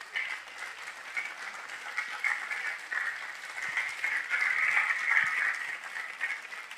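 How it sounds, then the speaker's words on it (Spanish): A church congregation applauds together, sustained dense clapping that swells slightly toward the middle and continues steadily throughout, fairly close and without speech. "Denle un aplauso fuerte al Señor"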